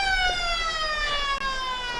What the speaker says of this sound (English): The siren still works.